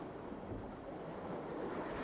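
Southern ocean swell and waves roll in a steady, faint wash of surf and wind, continuous and unbroken with no voices.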